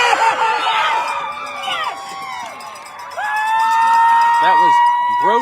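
A loud football crowd cheers and yells at a game, with whistles or shrieks rising over the roar and a surge of noise toward the end, with no clear talk.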